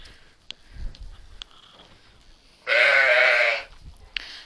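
A young lamb gives one loud, close bleat lasting about a second, with quiet handling noises and small clicks before and after it.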